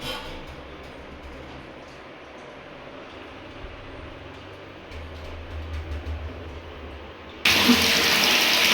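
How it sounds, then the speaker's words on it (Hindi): Dirty water suddenly gushes from a tap in Humayun Nagar, a loud, close, rushing splash that begins near the end after a stretch of low background noise. "ये देखो भाई कितना गंदा पानी है"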